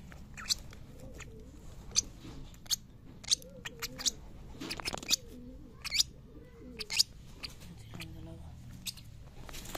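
Pigeons in a backyard coop give soft, low cooing calls against sharp, scattered clicks and pecking noises, with a voice speaking quietly at times.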